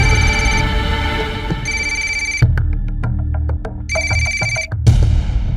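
A telephone bell rings in repeated bursts inside a home, loud and close, with steady rhythmic trills separated by short pauses and clattering household sounds in between.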